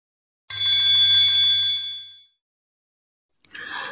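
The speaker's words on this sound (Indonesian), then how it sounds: "suara bel sekolah membuat para siswa kelas 3 senang" A single bright metallic school bell clang rings out loudly and decays over about two seconds, followed by silence and a short second ring.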